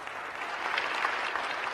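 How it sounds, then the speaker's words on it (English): Brief burst of audience applause at a city's State of the City address, even and steady clapping from a hall full of people. "That deserves applause."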